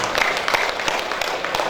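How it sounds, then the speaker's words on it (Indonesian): Audience applause at a regional organisation's inauguration gathering, a brief burst of dense, steady clapping from a crowd, with a voice faintly present underneath. "Tepuk tangan untuk kita semuanya."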